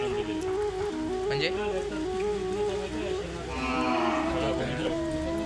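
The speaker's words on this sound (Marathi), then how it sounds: "हे बघा हे सगळे भाकड गाई आहेत" Barren cows at the Govardhan cow shelter in Konkan low repeatedly in long, drawn-out moos that overlap one another, close and steady over a constant farmyard background.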